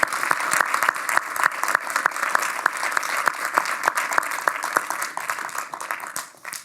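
Keynote audience at a self-determination conference applauds warmly, a steady crowd clapping with some sharp individual claps standing out, fading out toward the end.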